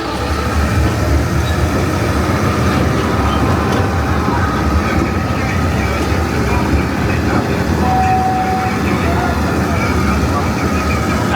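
Continuous rumble and rattle of a small park train in motion at La Mer de Sable, steady and close, with a brief whistle-like tone partway through.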